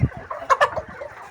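Chickens on a farm cluck while eating feed, several short bright clucks close by over a low murmur of the flock.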